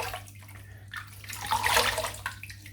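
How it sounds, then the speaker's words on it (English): Tap water runs steadily for a shave with a Gold Dollar 100 Stallion razor, a soft continuous splash that swells briefly in the middle, close and alone with no talk. "Put a bit of water on now."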